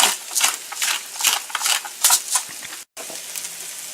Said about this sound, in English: and cauliflower to my pan with my hot oil